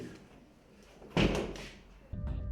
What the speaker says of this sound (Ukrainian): тут просто зачиняють перед нами двері